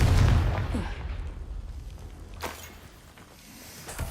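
Spell blasts in a magic video game: a heavy, rumbling boom opens, followed by a sharp burst midway and a softer one near the end, over a continuous low rumble.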